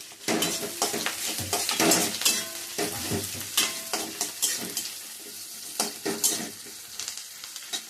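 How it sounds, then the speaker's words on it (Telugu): Green chillies and curry leaves fry in a pan, a steady close sizzle broken by frequent clattering stirs of a utensil against the metal. "తీసుకున్న పచ్చిమిర్చి, కొద్దిగా కరివేపాకు వేయించుకోవాలన్నమాట."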